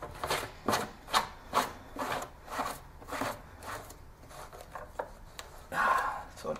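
The lid of a Rotokeg beer pressure barrel is screwed on tight in a series of rhythmic plastic rubbing, grinding twists, each turn a short scraping burst, repeated about a dozen times at close range.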